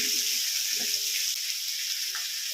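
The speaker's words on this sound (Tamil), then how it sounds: "நல்லா பொன்னிறமாக வணங்கட்டுங்க வெங்காயம்" Shallots frying in oil until golden for hotel-style mutton chukka, a steady, even sizzle and crackle that keeps going the whole time, with a few faint stirring scrapes underneath and no talking.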